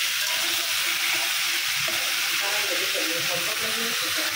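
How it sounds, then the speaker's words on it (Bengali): Potatoes and pointed gourd lightly frying in a pan, a loud, even hiss of oil close by, with a voice murmuring faintly beneath the sizzle. "এই যে আলু আর পটলগুলো একটু হালকা ভাজা দিয়ে নিচ্ছি"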